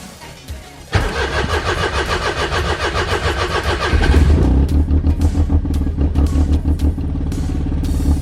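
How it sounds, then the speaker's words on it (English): A Daihatsu Mira's boosted 1-litre three-cylinder engine cranks briefly on a cold start, catches and fires up, then settles into a loud, slightly uneven idle close by. "I'll just turn it over now and you'll see what it sounds like"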